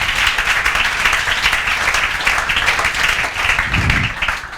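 Students in a maths classroom break into loud, sustained clapping, a dense burst of applause that fills the room and fades slightly at the end.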